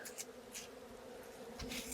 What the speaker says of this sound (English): there's bees all along the inside of this wall